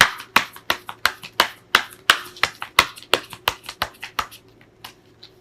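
Tarot cards are shuffled and drawn for a reading, a rapid series of about twenty sharp close slaps and snaps in an uneven rhythm that thins toward the end, over a low background hum.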